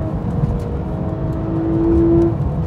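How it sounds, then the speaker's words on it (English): Porsche GT3 engine running on the road, a steady mechanical drone with a tonal whine that rises and swells toward the end, close and fairly loud, with no voices. "The GT3 does, engine-wise, operate on a completely different level to the others."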